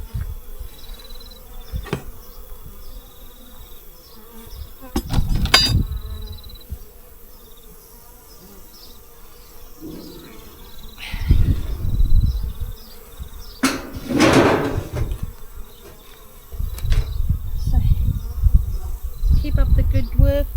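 Honeybees buzz around a hive in a steady high drone, with louder bursts as individual bees fly close past, alongside occasional knocks and handling noises.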